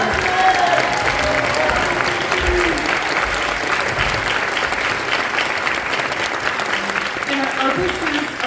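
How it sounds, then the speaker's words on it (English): A big round of applause for band boosters at a school spring concert and awards event fills the hall steadily, a crowd clapping continuously with some faint talk underneath. "let's give these 4 people a big round of applause"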